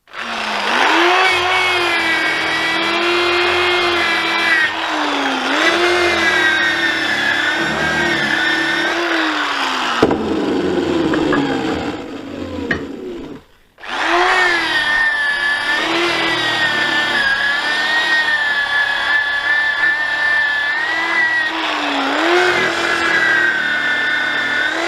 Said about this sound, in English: So I'll just show you what I actually do to prepare this pad with a wire wheel prior to recapping.